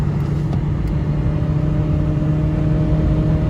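Steady, loud engine drone from a Hyundai Verna 1.6L and a Renault Duster 1.5L in a drag race, a continuous low rumble holding through third gear with no clear gear change.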